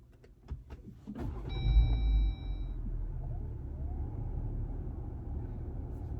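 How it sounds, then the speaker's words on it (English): A Jeep Gladiator engine starts: a few clicks, a short cranking whine, then the engine catches with a deep low rumble that settles into a steady idle. "I'll give you the sound at startup"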